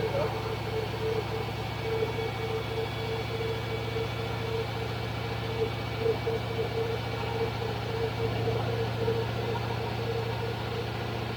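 A Range Rover engine held at a steady 2000 RPM just after its first start, giving a constant, even drone with a low hum, heard fairly quietly throughout.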